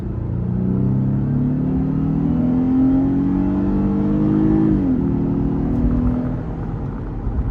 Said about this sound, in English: This car sounds so good from factory.